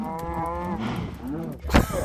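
Cows moo in the Minecraft video game, with a long drawn-out lowing call followed by a second shorter moo and a sharp hit sound near the end, close and clear with no speech.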